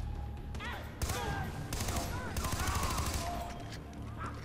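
Rapid bursts of gunfire from the video game Far Cry 3 crackle in quick succession, loud and close, with whooshing effects and a voice talking underneath.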